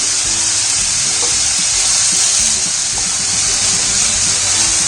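Vegetable fried rice being stirred in a pan over a medium flame, a steady close sizzle and hiss of frying with soft scraping strokes underneath, continuous throughout with no voices.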